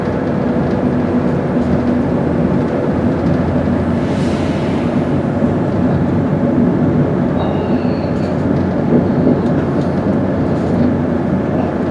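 A train pulls out of Driftfield station on the Yorkshire Coast Line in winter, giving a loud, steady rumble of wheels and engine throughout, with faint higher squeals near the end.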